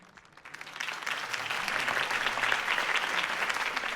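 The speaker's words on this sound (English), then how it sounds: "could have heard that applause" Crowd applause in a Batman video game, swelling from quiet to a steady, dense clapping, moderately loud and continuous, with faint cheering mixed in.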